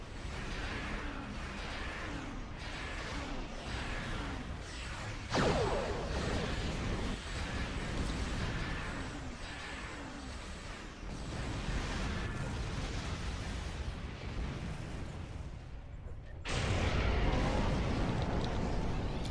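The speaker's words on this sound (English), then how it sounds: "the sound these radiant weapons make reminds me of the Wraith in Stargate" Radiant weapons firing from a Vo'Quv carrier in the space game Star Trek Online, a dense, continuous wash of energy blasts and booming bursts layered over steady battle noise, with a sharp swell near the end.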